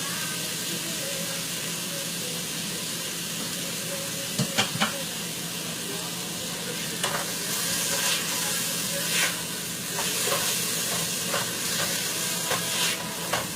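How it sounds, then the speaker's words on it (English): Beef pieces for carne guisada searing in a pan, a continuous close hiss and sizzle with scattered pops, sharp spatters and stirring clatter, no speech. "I'm going to let this sear a little bit"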